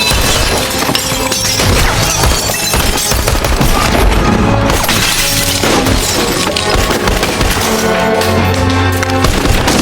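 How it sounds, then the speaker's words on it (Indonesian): Loud, dense bursts of gunshots mixed with shattering glass and splintering debris in an action film shootout, continuous and close throughout. "Andre menembak Kapten Matt, memberinya kesempatan untuk menyerah, tetapi dia gagal dan tertembak oleh Andre di kepala."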